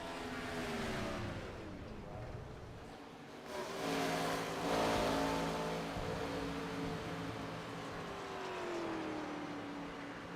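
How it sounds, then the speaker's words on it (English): A stock car in a racing video game revs hard during a post-race burnout, its engine tone rising and falling in long sweeping pitches, loud and continuous from start to finish. "you can't do your burnouts there"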